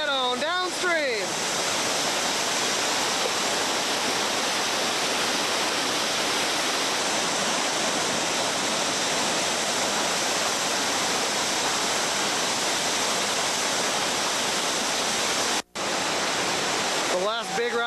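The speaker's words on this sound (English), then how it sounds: "water falling over a large rock as it exits the rapid" Whitewater rapid pouring over a large rock, a loud, steady roaring rush of falling water that fills the scene, with a brief dropout near the end and a voice at the start.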